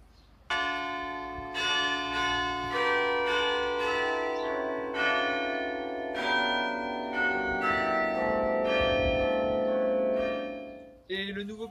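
New church carillon playing a melody of clear, ringing bell strikes, each tone sustaining and overlapping the next, loud and close, stopping abruptly near the end.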